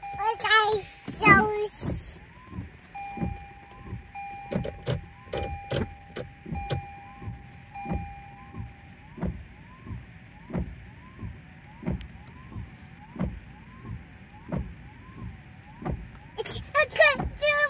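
A Toyota Prius is driven, giving a quiet electric whine with a rapid, regular clicking pulse. Children's voices are heard at the start and end.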